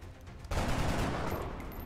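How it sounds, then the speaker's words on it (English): Gunfire in the XCOM video game, a sudden dense burst of rattling shots that starts after a brief lull and continues steadily, loud and close. "Alright, let's start shooting."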